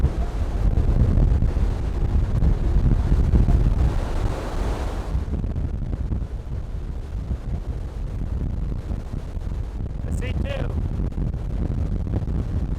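Strong wind buffets the microphone on an open, flat spot of Arizona backcountry, a loud continuous rumbling roar that peaks early and then settles into steady gusting, while someone speaks briefly partway through.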